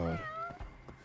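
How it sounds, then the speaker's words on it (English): A cat meows in the video game Judgment, one clear drawn-out meow followed by a couple of faint soft sounds, close and alone. "I have confirmed that the cat is right here"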